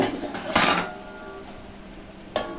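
A metal lid is set down on a pot of onion curry with a short clatter, followed by a fainter second clink and a low cooking hiss.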